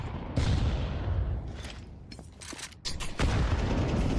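In an esports match of a tactical shooter, a grenade blast and gunfire ring out as dense, loud booms and crackling shots layered over a busy game soundscape, with several sharp bursts near the end.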